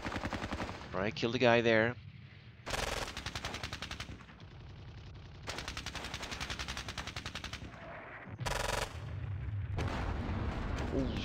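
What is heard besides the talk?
heavy gunfire in video game Squad Battles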